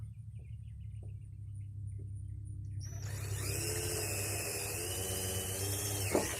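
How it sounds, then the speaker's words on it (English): A power drill spins a 1/2 inch paddle bit while boring a hole for a DIY bull-proof mineral feeder, a steady whirring grind that starts partway through and runs on alone. "to start making our cut. I'm using this 1/2 inch paddle bit."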